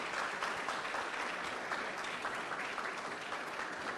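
An audience at an event welcoming the President of the Republic bursts into dense, sustained applause, many hands clapping at a steady level throughout.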